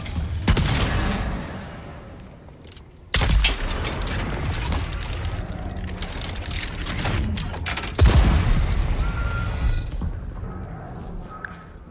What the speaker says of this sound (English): those cannons are pretty big up close